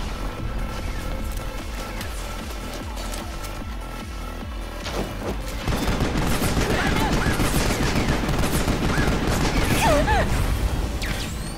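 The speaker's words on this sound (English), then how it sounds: "we're taking him with our SMG" SMG gunfire in Final Fantasy XV, dense rapid bursts of shots mixed with crashes and impacts, growing louder and busier halfway through, with speech faintly present beneath the clatter.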